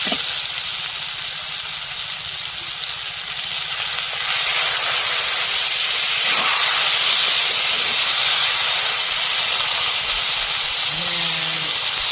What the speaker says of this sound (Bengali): তরকারি ফুটে উঠেছে